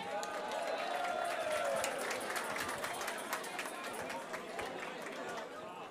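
A crowd at the 2024 Parksjtad Leedjes Konkoer song contest final applauds the performers, a broad, steady clapping with chatter underneath while a voice speaks over it.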